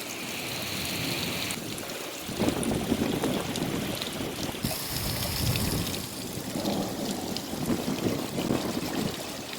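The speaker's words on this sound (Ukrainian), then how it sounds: "А на вечір у нас ось дощик, гроза," Steady heavy rain pours over a vegetable garden during a thunderstorm, a dense broadband hiss with no clear thunderclap standing out.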